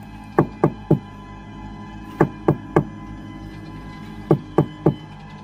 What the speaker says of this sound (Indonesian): Andi kemudian mengetuk pintu rumah tersebut.